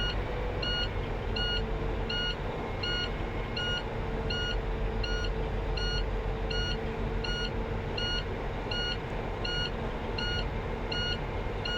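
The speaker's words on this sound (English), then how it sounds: "build my air pressure up to 60 psi before I start doing the other part of the inspection so I don't have to talk over the buzzer" A truck's low air pressure warning buzzer pulses in a regular repeating pattern over a low, constant engine rumble, continuous throughout with no talking.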